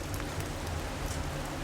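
Steady rain storm effect with dense, even hiss and patter of raindrops, continuous and fairly loud throughout with no voices.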